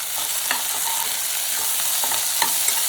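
Food sizzles steadily as it sautés in a frying pan for a Tamil tomato and coconut milk kootu, with a constant hiss and occasional soft scrapes of stirring.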